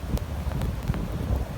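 Wind gusts during a snow storm, a steady rumbling buffet against the microphone with faint rustling, continuous and close.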